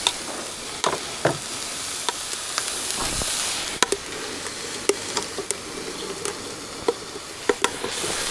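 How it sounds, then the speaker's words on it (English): Steady sizzling of food frying in oil on a rocket stove, with scattered sharp pops and crackles over a constant hiss. "I think you guys can hear these things just a sizzling right now"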